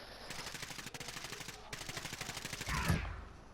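Rapid bursts of automatic gunfire from a Warzone match, a steady stuttering rattle for about three seconds that ends in a heavier thump, with a voice faintly underneath.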